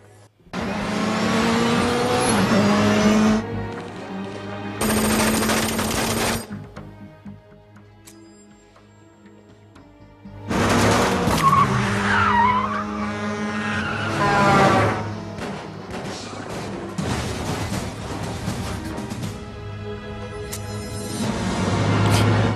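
Racing video game cars revving loudly, skidding with tire squeals and flipping out of control in rally-style driving, engine roar in long bursts separated by a quieter gap.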